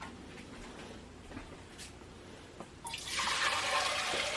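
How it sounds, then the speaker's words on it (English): Cider vinegar and water poured into a cooking pot, a soft liquid splash that swells into a steady, louder gushing pour during the second half. "Oh, look at me, fancy two-handed pouring."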